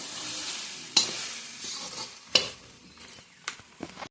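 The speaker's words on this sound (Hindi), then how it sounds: "ऑलमोस्ट मेरा गाजर का हलवा पक गया है, थोड़ा सा और पकाते हैं" Carrot halwa being stirred in a pot over a wood-fired stove in Himachal, a soft simmering sizzle with several sharp scrapes and clacks of the spoon against the pan.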